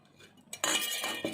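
Grated coconut dropped into a metal puttu steamer tube, heard as a close rattle and clink of metal after a quiet start, with a second smaller clink near the end.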